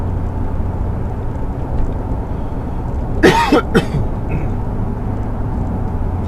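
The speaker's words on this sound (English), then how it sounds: "It's just a cough." Two quick coughs in the middle of a steady low hum, distinct and fairly close.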